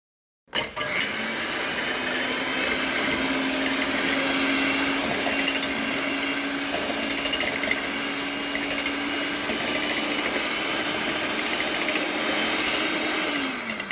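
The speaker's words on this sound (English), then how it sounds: "We have our beater. We're going to start that and we're going to start whisking." A handheld electric beater whisks lemon pie filling, a steady close motor whir with a constant hum that runs without pause for about thirteen seconds, then winds down at the end.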